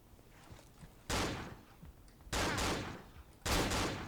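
Bursts of enemy gunfire in the horror video game Cry of Fear, three loud volleys of rapid shots separated by short quieter gaps, close and dominant.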